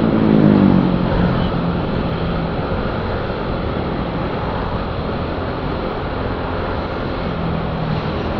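An unloaded eight-wheeler truck accelerates along a road at night, its engine a loud, continuous, broad roar that holds steady throughout with no talking.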